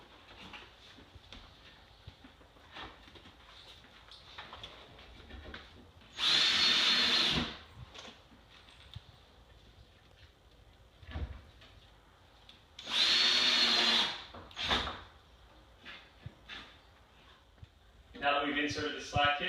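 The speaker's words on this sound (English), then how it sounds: "we can use our screws here to attach." Power drill driving screws into a wooden rake bed, two sustained loud bursts of about a second each with a short third burst near the end, over quiet background and some talk.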